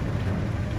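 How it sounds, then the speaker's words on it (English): Steady rain pours down at a drift event where LS-swapped Miatas run tandem, a dense, even hiss of falling drops filling the short moment with no voices. "It started raining right after that."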